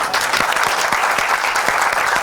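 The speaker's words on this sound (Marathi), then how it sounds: "एकदा जोरदार टाळ्या व्हायला पाहिजे." An audience at a business knowledge session gives steady, vigorous applause, dense clapping that continues throughout without speech.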